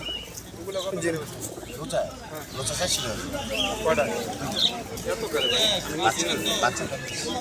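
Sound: giribaz pigeons cooing at market

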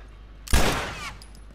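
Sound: gunshots in The Last of Us video game

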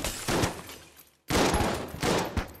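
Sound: shotgun fire in the video game Enter the Gungeon

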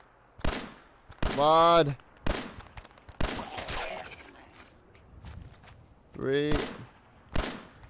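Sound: gunfire in Fallout 4 video game

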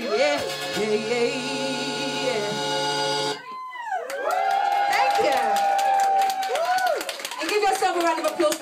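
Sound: party crowd singing along and cheering

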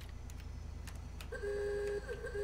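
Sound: car horn in GTA video game, sounds like a bicycle horn

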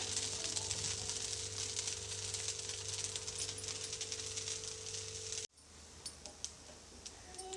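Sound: masala dosa sizzling in oil on a pan

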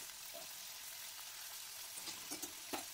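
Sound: paneer frying in oil

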